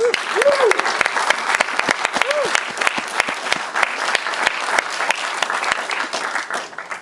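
A live audience applauds loudly as the writer of The Bay comes on stage. Sustained, dense clapping is mixed with a couple of whoops and whistles near the start, then slowly tapers off.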